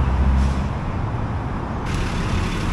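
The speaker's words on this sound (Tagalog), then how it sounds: "Sakay tayo ng bus." A city bus on a street in Mexico gives a loud, steady rumble as it pulls up with an air brake hiss, set against surrounding traffic noise.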